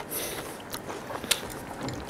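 A crunchy Beaufort cheese chip bitten and chewed, giving a few sharp crisp cracks and soft crunching between quiet pauses, close and fairly faint.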